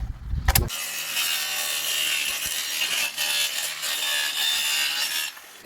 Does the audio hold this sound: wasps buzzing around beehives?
no